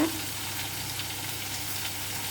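Eggplant sautés in a pan with a steady, even sizzle of moderate loudness, holding constant with no talking throughout.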